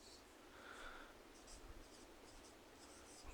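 A pen or marker writes out a volume-percentage formula for a chemistry lesson on solution concentration, giving soft, faint scratching strokes in short irregular bursts against quiet background hiss.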